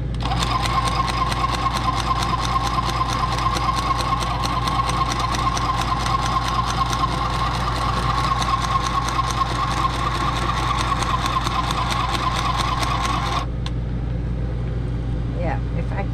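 A sewing machine stitches RV windshield curtain fabric in a fast, even rapid-fire rattle that runs steadily before stopping abruptly, with a low hum beneath and speech nearby.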